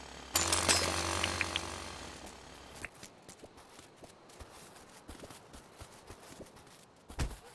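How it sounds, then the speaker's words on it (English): A jackhammer in the video game Dinkum rattles loudly in a dense burst of about two and a half seconds, followed by quieter scattered knocks and clicks. "that jackhammer can also clean up all the grass in the jiffy."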